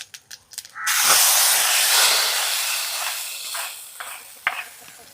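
A hot tempering of fenugreek and curry leaves is poured into a pot of Kerala sadya sambar, setting off a few soft clicks and then a sudden loud, hissing sizzle that slowly fades over several seconds.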